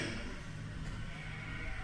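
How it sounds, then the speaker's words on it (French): Pré-salé sheep bleating faintly at a distance, a drawn-out bleat over a steady low background hum, with no voices present. "n'oublions pas le célèbre mouton de pré-salé"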